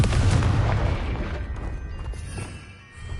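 A Confringo spell explosion in Hogwarts Legacy lands as a deep booming blast up front, then rumbles and fades into a brief crackling tail over a few seconds.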